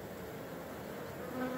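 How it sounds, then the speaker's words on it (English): Swarm of bees marching into the entrance hole of a hive box makes a soft, continuous buzzing drone, close and low in level, with a slightly higher whine rising near the end. "you'll literally be able to see the bees marching into that hole"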